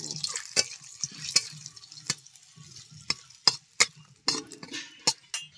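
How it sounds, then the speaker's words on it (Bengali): Whole garam masala, a dry chilli and a bay leaf fry in oil in a kadai, with soft intermittent crackles and sharp spattering pops spread irregularly across a quiet background. "ফোড়নটা ভেজে নিয়েছি।"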